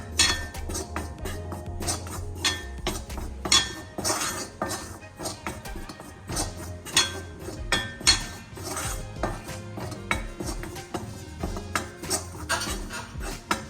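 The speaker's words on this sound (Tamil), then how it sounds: "கடலை மாவு போட்டுக்கணும், கொஞ்சம் லேசாக வறுத்துக்கணும்" A metal spoon scrapes and clinks against a pan while gram flour is dry-roasted and stirred in a home kitchen, giving a busy run of sharp taps and scrapes, close and fairly loud.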